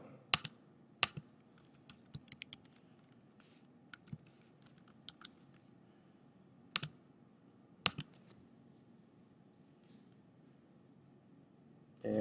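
Typing on a computer keyboard gives quiet, scattered key clicks in short irregular bursts, some sharper taps standing out against a low room hum. There are no voices.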